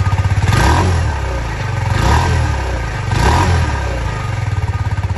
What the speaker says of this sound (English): The engine is warm, so I'm gonna go ahead and give it a couple revs.